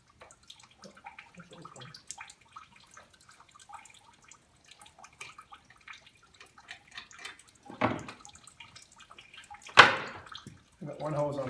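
A popped relief valve on a PVB backflow preventer spits water in short, splashy bursts, louder near the end, between long quiet stretches with faint handling noises.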